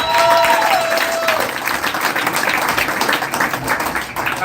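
A live comedy-show audience bursts into loud, sustained applause as a comedian walks on stage, dense clapping mixed with crowd cheers that carries steadily throughout.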